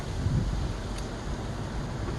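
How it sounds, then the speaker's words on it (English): Steady wind buffets the microphone, a low rumbling roar with soft gusts and no voices. "it's getting windy out here"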